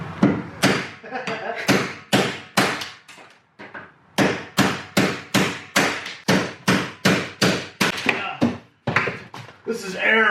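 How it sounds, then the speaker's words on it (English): Rapid, evenly spaced metallic strikes of a pneumatic hammer chiseling out a school bus ceiling, loud and close, in bursts with a couple of short pauses. "We'll put it in the air hammer."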